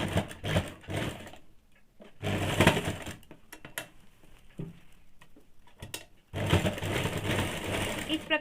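Sewing machine running along a blouse side seam up to the armhole curve, several bursts of close mechanical whirring separated by quieter gaps with faint handling noises.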